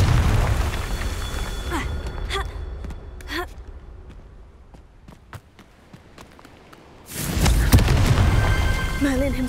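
Confringo fire spell detonating in Hogwarts Legacy during a Merlin trial, a sudden loud burst that swells into a sustained roaring blast near the end, following quieter spell casts, footsteps and a voice.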